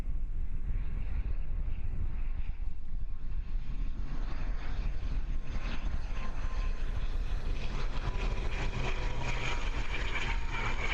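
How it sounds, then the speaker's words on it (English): An airplane lands in strong wind at Christchurch Airport, its engine roar a sustained rushing drone that swells toward the end, heard from a distance against blustery wind noise. "Great landing. A little bit heavy on the left-hand side there, but fantastic control."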